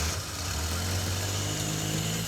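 An off-road AMC Pacer car engine runs at a steady idle, heard up close: a loud, even rumble with a constant low drone and no pauses.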